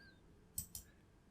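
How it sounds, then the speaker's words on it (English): Two quick, faint mouse clicks in close succession, crisp and isolated against a quiet background. "click Run."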